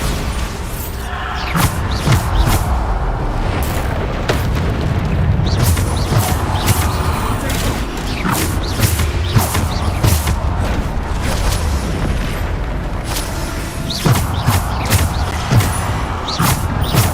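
Repeated spell explosions from Bombarda in Hogwarts Legacy, a steady run of deep booms and crashing impacts with creaks over a constant rumbling game background, loud and close throughout.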